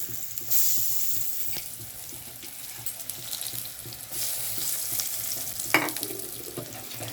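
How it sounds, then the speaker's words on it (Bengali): Eggplant fries in hot oil with a soft, steady sizzle, broken by occasional clinks and stirring sounds close by. "আমি বেগুনটাকে ভেজে নিচ্ছি"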